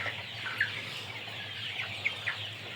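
Chickens in a chicken house give soft, scattered clucks and a few sharper calls over a steady background hum, fairly faint and with no talking.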